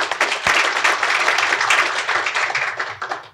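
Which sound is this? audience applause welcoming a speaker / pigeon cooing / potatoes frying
audience applause welcoming a speaker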